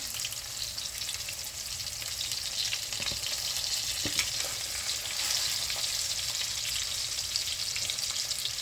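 A breaded cutlet frying in oil for a Parmesan dinner, a close, steady crackling sizzle with faint bubbling and a few light utensil taps.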